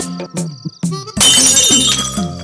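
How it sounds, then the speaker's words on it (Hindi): A glass of milk smashes on the floor in a Hindi romantic film scene, a loud sudden shatter with scattering shards that follows a few brief voiced sounds. "अरे ये तो दूध का ग्लास टूट गया।"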